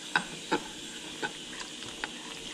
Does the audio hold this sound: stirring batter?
yes